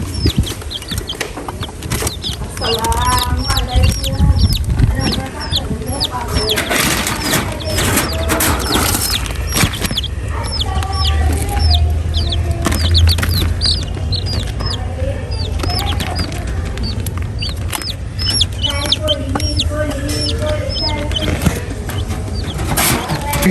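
Many chicks cheep constantly in high, rapid peeps, close by, over a steady rustling and shuffling background.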